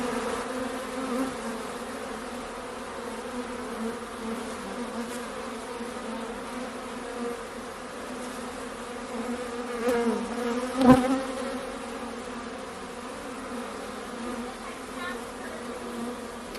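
Steady, continuous buzzing of a honeybee swarm, dense and close, with a brief louder swell near the end.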